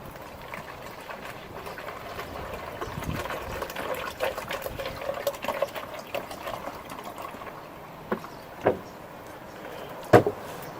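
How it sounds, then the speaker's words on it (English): Dirty water is poured into a homemade survival water filter, making a continuous soft gushing and trickling pour that runs for several seconds, followed by a few isolated drips and splashes near the end. "all I need to do is pour my dirty water in here and it'll siphon down in there"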